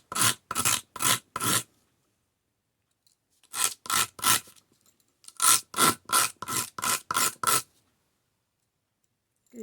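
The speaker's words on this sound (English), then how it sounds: "There's sandpaper." Sandpaper rubs on a handmade holiday ornament in quick rhythmic back-and-forth strokes, heard in three separate bursts with silent pauses between them, close and clear.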